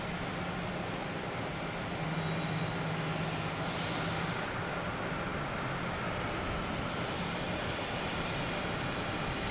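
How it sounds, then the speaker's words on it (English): A JetBlue Airbus A321 arriving from Aruba at Boston Logan Airport, a steady, broad jet roar filling the whole stretch at moderate distance with no voices over it. "have JetBlue coming in from Aruba. A321, flight"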